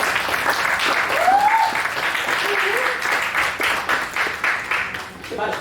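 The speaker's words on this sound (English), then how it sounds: "I'll give her a hand clap as she comes." A congregation at a religious gathering breaks into hearty applause, many hands clapping densely and loudly for several seconds while voices call out over it.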